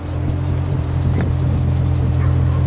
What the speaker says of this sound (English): I'll give it a rev.